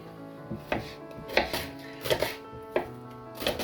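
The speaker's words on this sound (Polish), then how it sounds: "Teraz pokroimy cebulkę." Onion being chopped on a cutting board with a knife, six or seven distinct knife strikes at an uneven rhythm, close and fairly clear over a faint background hum.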